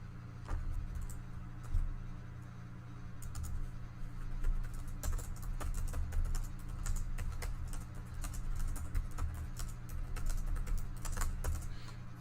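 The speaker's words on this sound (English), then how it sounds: "I'm just typing some." Steady clicking of fingers typing on a computer keyboard, close and continuous with irregular rapid keystrokes over a low background hum, no talking.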